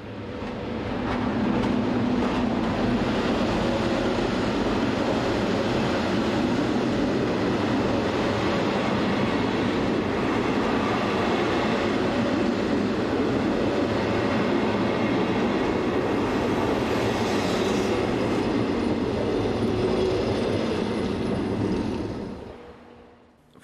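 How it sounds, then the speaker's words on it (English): An HGe 4/4 electric rack locomotive, number 102, arrives hauling the Glacier Express from Chur to Zermatt in snowy Swiss mountains: a loud, sustained rumble of wheels and carriages rolling close by, fading at the end. "Here, an HE44 electric number 102 arrives with the Glacier Express from Chur to Zermatt"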